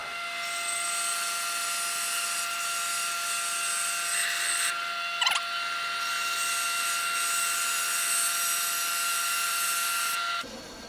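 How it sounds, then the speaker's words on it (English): A steady, high-pitched whine of a bandsaw running continuously through wood, with one brief sharp snap midway before the sound cuts off at the end. "Let's go cut that on the bandsaw."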